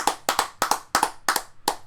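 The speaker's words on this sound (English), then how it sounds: "Let's give her a round of applause" Sparse, slow hand claps in an auditorium, about six sharp separate claps in under two seconds, near and fairly loud with a short echo, more like one or a few people clapping than a full crowd.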